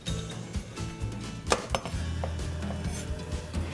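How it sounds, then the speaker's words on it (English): Onions and peppers tumble into the bottom of a crock pot, giving a run of clinks and soft thuds against the ceramic with a couple of sharper knocks, close and fairly loud, with no talking. "I'm gonna go ahead and put in our onions and peppers in the bottom."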